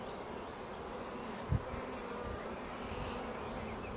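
Honeybees hum in a steady, continuous drone at an early-season hive after a hard winter, close by with no voices, and a single brief knock just past the midpoint.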